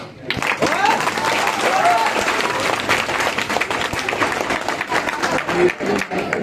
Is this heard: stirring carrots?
no